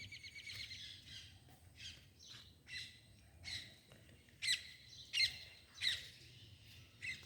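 Sparrows gathered in a garden chirp and squawk sharply in alarm at an owl, with repeated loud bursts at a steady rhythm over faint background noise.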